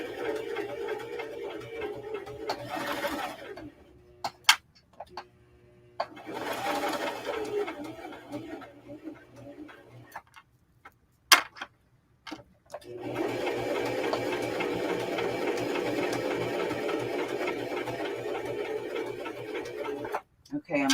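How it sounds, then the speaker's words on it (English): A sewing machine stitches down a hoodie in long, steady runs broken by short pauses, with someone talking over it between and during the runs. "I'm just going to sew over it and then stop"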